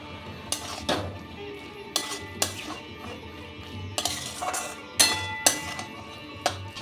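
A spoon scrapes and clinks against a pan while taro leaf curry is stirred, coming as sharp, irregular metallic knocks and scrapes, close and moderately loud, with a low hum underneath.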